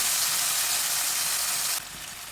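Mashed elephant foot yam sautéing in a hot pan sends up a steady close sizzle that drops in level near the end and carries no voices.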